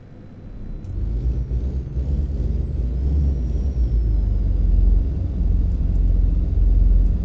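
Kenworth W900 dump truck in American Truck Simulator, a brief pneumatic air-brake hiss at the start followed by a loud, steady diesel engine rumble that builds and holds.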